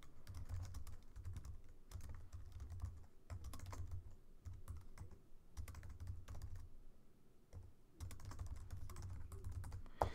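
Typing code on a computer keyboard, with a steady run of close key clicks in bursts separated by short pauses, alone without talk.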